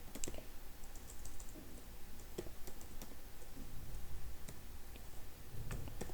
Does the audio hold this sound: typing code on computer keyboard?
yes